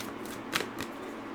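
Tarot cards are shuffled in one brief, soft riffle that is heard alone and close by.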